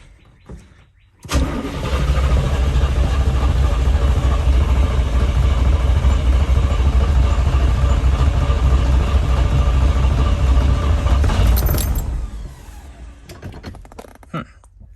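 A GM sports car engine cranks over steadily for about ten seconds without firing, a loud, even mechanical churn that starts abruptly and cuts off, followed by faint clicks.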